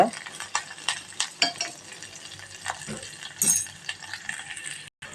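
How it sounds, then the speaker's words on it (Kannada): Chopped onions sautéing in oil on a low flame until brown, with a spoon scraping and stirring the pan in uneven strokes over a soft, steady sizzle, close up. "ಬ್ರೌನ್ ಕಲರ್ ಬರೋ ಮಟ್ಟ ಈ ಉಳ್ಳಾಗಡ್ಡಿ ಬಾಡಿಸ್ಕೋಬೇಕು. ಸಣ್ಣ ಉರಿ ಇಟ್ಕೊಂಡ"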